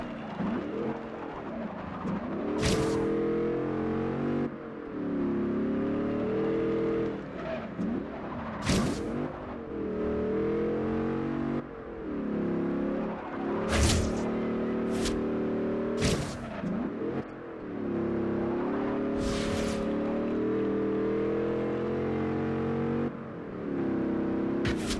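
A Maserati Ghibli racing in Forza Horizon 2, its engine revving and rising through gear shifts in long sustained pulls, broken by sharp tire screeches from drifting, loud and close with no talking.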